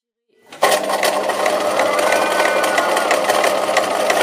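After a short silence, a sewing machine starts and stitches steadily close to the edge of a mitered corner hem, its fast, even needle clatter running continuously and close up.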